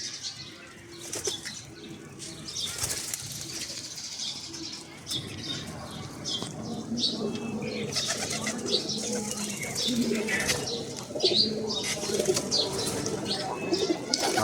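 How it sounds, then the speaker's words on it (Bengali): Two male pigeons in a loft, soft cooing and low murmuring at close range under rustling and scattered wing flaps, faint and intermittent over a quiet background. "এই দুইটাই নর কবুতর"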